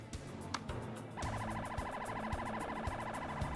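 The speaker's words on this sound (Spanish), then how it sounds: "Una patrulla de la policía y una ambulancia acuden a la escena." Police car and ambulance sirens wail nearby after a brief lead-in, a rapid warbling yelp that continues steadily and loud to the end.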